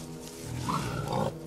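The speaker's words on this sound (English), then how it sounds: "That's a pig getting eaten." A pig squeals while being eaten in the horror video game The Quarry, a short, loud, strained cry lasting about a second, heard alone.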